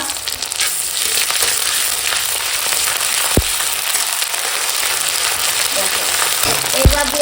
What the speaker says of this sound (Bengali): এখন দিয়ে দেবো এই যে আদা রসুন দিয়ে একসঙ্গে বাটা